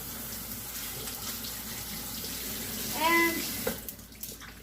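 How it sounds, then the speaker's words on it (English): Cold tap water runs into a kitchen sink to rinse cooked beans, a soft steady trickle and splash under a brief spoken word and a faint squeak near the end. "So you rinse them out really well with cold water"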